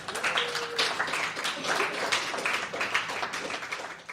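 An audience applauds a storyteller being welcomed to the stage, with dense, steady clapping at close to moderate distance throughout.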